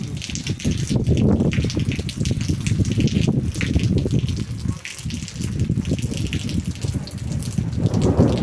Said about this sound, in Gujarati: કડાકા બડાકા સાંભળો